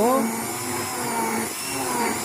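A hand blender grinds fermented glutinous rice for apple glutinous-rice gochujang, giving a steady, close whirring hum under a speaking voice.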